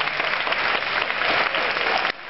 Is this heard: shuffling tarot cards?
no